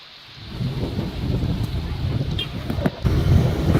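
Heavy rain driven by a violent windstorm in Karatagi, Koppal district, Karnataka: a steady, dense roar of downpour and gusting wind that swells slightly, with occasional low rumbles beneath.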